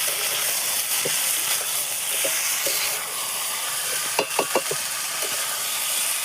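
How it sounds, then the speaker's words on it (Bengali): Chicken and potatoes sauté with spices in a pan over a wood-fired clay stove, giving a steady close sizzle broken by scattered spoon scrapes and a quick run of stirring clatters near the end. "কষানো চিকেনের মধ্যে আমি আলুটাও দিয়ে দেব দিয়ে একসাথে ভালোভাবে কষাতে দেবো"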